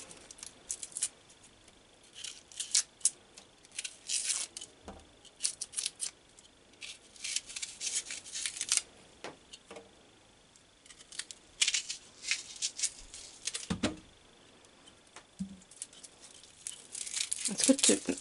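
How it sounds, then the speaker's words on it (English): Onions being peeled by hand, dry papery skin giving short crackling tears and scratchy rustles in irregular bursts, close and fairly quiet. "I will try not to peel too much off."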